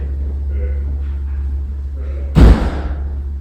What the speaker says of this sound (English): So it sounds like the police are at the door again.